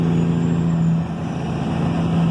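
Kenworth W900 truck with a Cat 3406E engine and 8-inch straight pipes rumbles loudly and steadily at close range, a deep droning exhaust note that dips briefly midway, with no voices.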